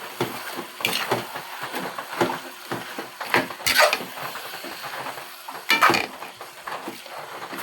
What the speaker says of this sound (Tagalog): Maglagay tayo ng chili sauce. Haluin.